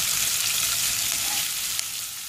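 Chopped onions fry in a pan toward brown, giving a dense, even sizzle that holds loud and close throughout with one faint tick near the end.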